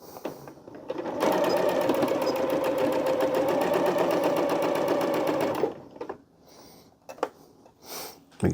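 A sewing machine stitching a seam on a raglan hoodie, running loud and steady at close range for about four seconds, then stopping and leaving a few soft handling noises.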